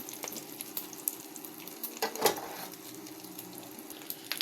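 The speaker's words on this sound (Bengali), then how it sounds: "তো আমার মেয়ের জন্য ডিম ভাজি করে নেব" An egg frying in a pan at home for a child's lunch gives a soft, steady sizzle, with a brief louder burst of crackling partway through and no talking.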